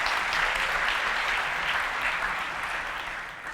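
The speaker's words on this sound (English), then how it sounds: "So I think that might be nice to have a round of applause." Audience applause at a keynote, a dense, even wash of clapping from a large crowd, sustained at full strength before tapering slightly toward the end.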